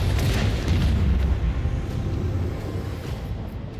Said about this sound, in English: Initiate macro cannon barrage.